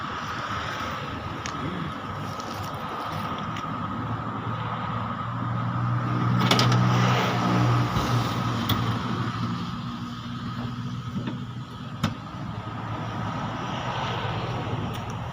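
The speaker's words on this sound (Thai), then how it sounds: "จะสตาร์ทเครื่องให้ฟังนะครับ" A 1998 Isuzu NQR 120 pickup truck engine idles steadily in a close, droning hum with a brief rise in the middle and a sharp click near the end, with no talking.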